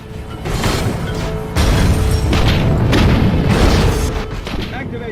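Turret fire and explosions fill a cutscene from The Incredible Hulk video game with continuous heavy booms and blasts, loud and dense throughout, while voices shout commands over the noise.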